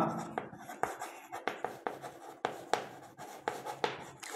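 A pen writes on paper in close, dry scratching strokes. Short bursts repeat at a steady, quick rhythm, with brief pauses between them, in a quiet room.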